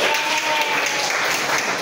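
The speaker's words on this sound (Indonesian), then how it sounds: "Oke, terima kasih, tepuk tangan." Classroom applause from students, a short burst of dense clapping filling the moment without talk.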